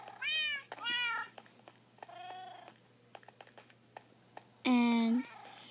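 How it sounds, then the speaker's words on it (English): A pet cat meows several times indoors, with two clear, fairly close meows at the start, a softer one in the middle and a loud drawn-out meow near the end. Soft tapping and clicks fill the gaps. "Here's my kitty cat."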